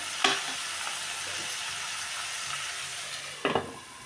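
Tomatoes fry in a pan for tomato rice with a continuous soft sizzle, broken by two sharp scraping clanks near the start and the end as the lid or a spatula is moved.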